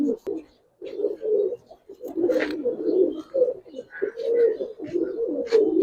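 A male Giribaz highflyer pigeon cooing, with repeated low throaty coos close by, mixed with human talk and a few brief chirps.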